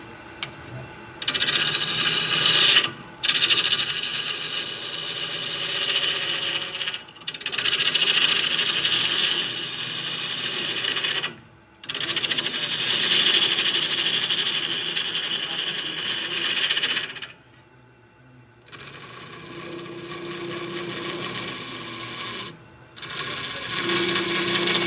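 A gouge cuts a segmented wooden bowl spinning on a lathe, a loud continuous scraping hiss of cutting that stops briefly several times and then resumes.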